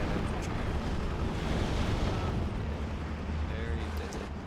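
Artillery barrages in the World War II strategy game Steel Division 2 form a dense, continuous rumble of distant explosions, steady and loud throughout with low booming underneath.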